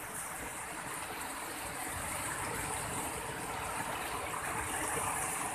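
Water released from the Gangrel dam, about 85,000 cusecs discharged toward the Mahanadi, rushes and gushes in a continuous roaring torrent that holds steady and slowly swells in loudness.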